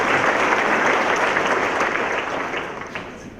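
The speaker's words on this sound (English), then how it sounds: "Please give another round of applause to everyone who's been at the podium this morning." Sustained applause from a summit audience at a morning opening session, a dense steady clapping that fills the room and slowly fades toward the end.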